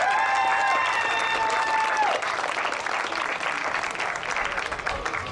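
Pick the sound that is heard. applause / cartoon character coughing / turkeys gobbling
applause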